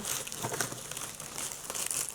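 Stretchy protective wrapping paper from Zara Home crinkles and rustles in short, close, fairly quiet bursts, with no talking.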